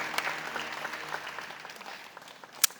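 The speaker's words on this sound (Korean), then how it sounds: "여러분께 박수로 환영하시죠" Congregation applauding inside a church at a Sunday service, a moderate patter of clapping that stays steady and slowly thins out, with one sharp louder clap near the end.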